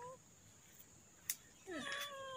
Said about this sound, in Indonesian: Ini yang kucing kemarin teman-teman.